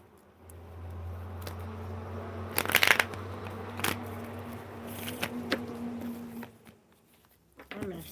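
Tarot cards are shuffled close by, a soft riffling and patting with a quick flurry in the middle, over a low steady hum and faint background noise.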